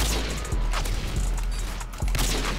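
Gunfire from the Modern Warfare 2 (IW4x) game on the Terminal map, with a few sharp loud shot transients over a constant dense game ambience and mechanical clatter.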